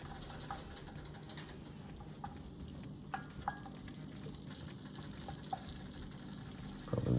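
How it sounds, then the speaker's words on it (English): Rice thrown into melted butter in a pan, giving a soft steady sizzle with faint stirring clicks and scrapes, quiet and close with no talking. "when this butter melts a little bit more, I'm going to throw the rice in"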